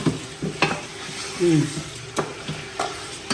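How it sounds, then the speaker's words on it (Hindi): Two kilos of meat fry in a pot for dal gosht, with a close sizzle under intermittent scraping stirs and clanks, and a brief voice in the middle. "अब इसके अंदर चला गया गोश्त।"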